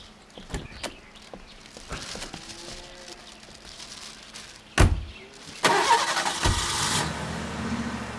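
A car engine cranks and catches partway through, followed by a steady running hum that stays close and fairly loud, with scattered background noises earlier and no talk over it.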